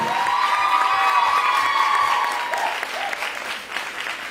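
Audience applause with some cheering fills a women's day celebration event hall, loud and sustained before tapering slightly toward the end.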